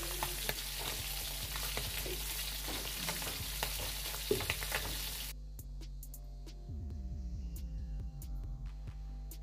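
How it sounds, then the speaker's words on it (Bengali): Fish of an unknown kind frying in hot oil that spatters heavily, making a loud, dense sizzle full of crackling pops; partway through the sizzle drops away and a low hum is left, broken by sparse pops. "মাছটা এত পরিমাণ তেল ছুটছে, হাত পুড়ে যাওয়ার মতো অবস্থা"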